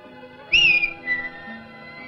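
A single short human whistle given as a signal, rising briefly then holding for about half a second, loud against a quiet background with a faint low hum.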